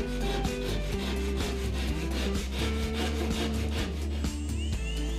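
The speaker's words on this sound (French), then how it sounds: "faire des ouvertures dans la plaque de plâtre à l'aide d'une scie à plaque de plâtre" Quick, steady rasping strokes of a drywall saw cutting through plasterboard, partly masked by loud background music.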